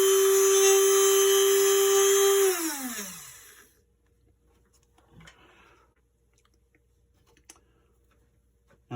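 A router spins up with a bit for cutting a rosette channel into an acoustic guitar's wooden top, a loud high whine for about two and a half seconds, then winds down and falls silent, leaving only faint clicks and handling noises.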